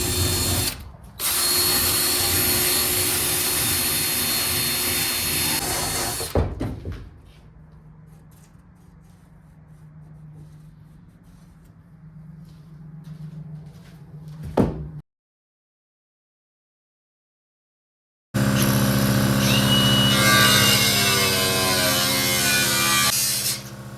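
Grinding down spot welds on a 1978 Ford tailgate: a loud, steady abrasive whine runs for several seconds, drops to a quieter rumble, then cuts out and returns loud after a silent gap.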